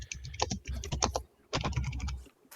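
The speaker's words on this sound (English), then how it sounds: "He was typing." Rapid computer keyboard clicking comes in two close bursts of quick, uneven keystrokes separated by a short pause, loud and near with no talking.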